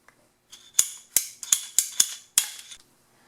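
PEX water pipe being cut with a cutter during a home plumbing install: six close, crisp snapping clicks in quick succession, each fading fast, with no one talking.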